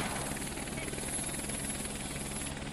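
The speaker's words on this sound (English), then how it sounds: "What are you doing to my helicopter?" A video game helicopter flies close by, its rotor making a dense, steady, loud thudding whir that holds unchanged throughout without pause.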